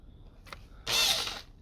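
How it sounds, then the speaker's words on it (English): A power drill bores a hole during installation of a Panasonic Aquarea 5kW R32 monobloc heat pump: a short, loud, steady whine that starts abruptly and runs about half a second, preceded by a faint brief tap. "and I just drill like this"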